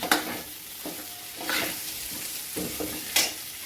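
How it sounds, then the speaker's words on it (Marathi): Mixed vegetables for a Maharashtrian Bhogi bhaji are stirred through hot, sizzling tempering in a pan, with repeated scraping strokes over a steady frying crackle and no talking. "तर अशा पद्धतीने याला चांगलं मिक्स करून द्यायचं फोडणीत"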